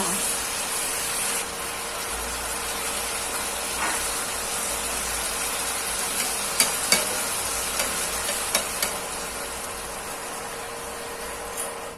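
Chicken and holy basil leaves stir-fry in a hot pan, giving a continuous soft sizzle and hiss with a few light scraping clicks of a utensil, steady and moderately close throughout.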